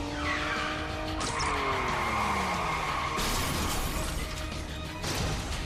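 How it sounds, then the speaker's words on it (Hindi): Cartoon race cars in an assembly race competition rev and skid loudly, with continuous engine roar, sliding pitch sweeps of passing cars and sharp tire-squeal bursts near the end, no talking. "क्या ये इंजन का शोर है? हाँ, ये तो असेंबली रेस कंपटीशन है।"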